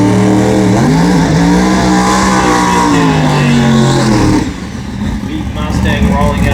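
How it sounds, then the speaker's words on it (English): A big Ford Mustang drag car idles and rumbles loudly as it rolls out for a solo pass at a drag strip, its engine note steady and rising slightly before dropping off, with an announcer talking over it. "Big Mustang rolling out for a solo pass"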